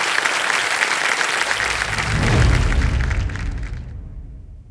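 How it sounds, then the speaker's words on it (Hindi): A studio audience on a Kaun Banega Crorepati quiz show applauds a contestant, a dense, loud burst of clapping that swells and then fades away over a few seconds, with no talking. "जोरदार तालियां बज जाए इनके लिए।"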